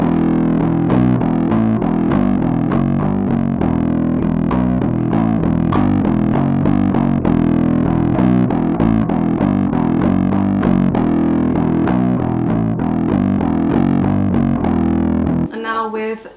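A distorted bass guitar through a GoliathFX IceDrive overdrive pedal with the mids turned all the way down plays a busy riff with a thin, scooped tone, steady and loud throughout, ending abruptly.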